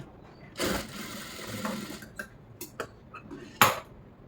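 A sewing machine stitches the lining of a blouse cuff in bursts, with a loud run near the start, short ticking clicks in between, and another sharp burst near the end.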